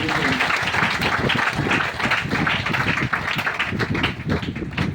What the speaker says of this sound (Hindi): तो फिर से एक जोड़ा ताली होना चाहिए।